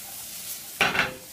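Vegetables and caramelized onions sautéing in a pot over medium-high heat, with a steady sizzle and a couple of brief stirring scrapes near the end.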